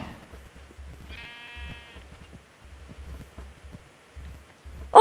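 Blocky cows in the Minecraft video game give a short, drawn-out call that rises out of soft, steady stepping thumps, with a sharp burst at the very end.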